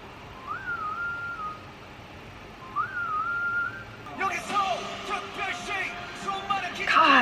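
A clear melodic whistle plays two short phrases alone at the start of a Stray Kids song, then music kicks in loudly with a busy beat and layered sounds.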